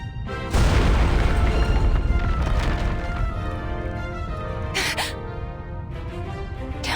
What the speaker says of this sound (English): Is that an explosion?